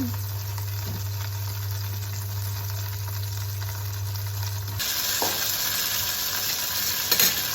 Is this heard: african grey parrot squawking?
no